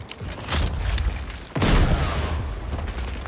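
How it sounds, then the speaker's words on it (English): A grenade launch and explosions in the World War II shooter Battlefield V: two heavy booming blasts about a second apart, each followed by a rumbling decay over ongoing low battle noise. "Launching grenade!"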